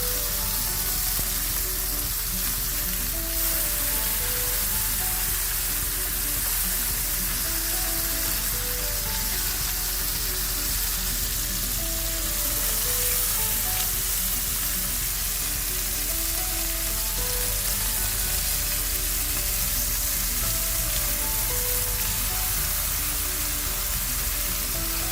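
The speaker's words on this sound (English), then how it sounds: "I'm going to check if our bacon is done on the first side and flip it" Bacon strips sizzling in a pan for a grilled cheese sourdough sandwich, a dense, continuous crackle and hiss that stays loud and even throughout with no talking.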